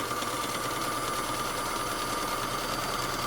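A vintage Kenmore sewing machine topstitching long fabric straps runs in one steady, fast whir, close and fairly loud, with no pauses or voices.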